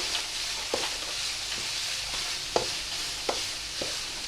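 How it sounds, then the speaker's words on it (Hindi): Spiced beef mince frying in a karahi gives a steady sizzle, with occasional sharp scrapes of a spoon stirring against the pan. No one talks. "इसको मैं थोड़ा सा ये इस मसाले के साथ भी भूनूँगी"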